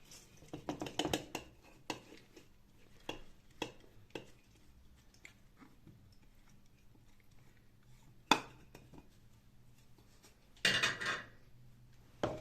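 Soaked lentils tipped into a pot, giving a few scattered clatters and rattles of grains against metal, with brief louder bursts spaced apart, close and moderately quiet, with no talking.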